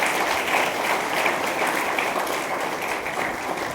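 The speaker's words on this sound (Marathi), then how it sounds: "त्यांच्यासाठी एकदा टाळ्या" Steady, full applause from an audience at a college student-parent gathering, sustained and dense throughout with no break.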